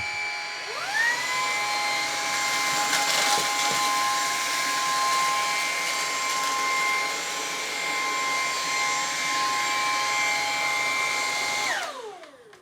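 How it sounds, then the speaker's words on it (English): Lupe Pure cordless vacuum cleaner on a hard floor spins up to a steady high-pitched motor whine with airy suction noise, held close for about eleven seconds before winding down. "I'm just testing it to show you guys the power of this vacuum cleaner."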